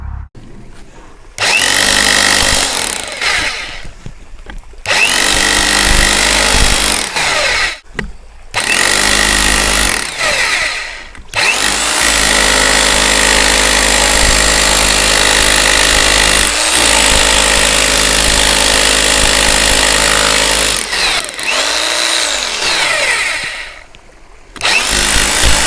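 INGCO 1050-watt rotary hammer running in hammer mode, loud close-up bursts of hammering that each last several seconds, separated by short pauses.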